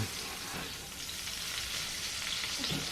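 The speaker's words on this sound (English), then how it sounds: "You want to hear a good sizzle when you add your sweetbreads." Steady, hissing sizzle of sweetbreads frying in butter in a hot pan, continuous and fairly quiet throughout.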